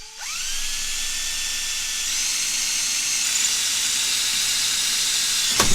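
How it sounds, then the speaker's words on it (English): A high-pitched power drill whines steadily up to speed and bores a rivet hole through an old kids stroller, close and continuous, ending with a brief clatter. "we'll drill a hole, and we'll rivet it"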